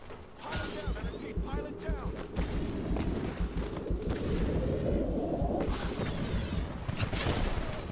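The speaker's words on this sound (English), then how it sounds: "Oh shit, a Titan shooting me." Heavy gunfire from a Titan mech in the Titanfall game on the Smuggler's Cove map, a dense continuous barrage of booming shots and mechanical clatter, loud and sustained throughout.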